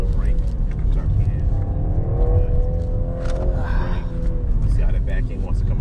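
A 2019 BMW 330i M Sport with track package runs hard on a circuit, its engine a loud rumbling drone with rising revs and a brief tire squeal, while people talk over it in the cabin.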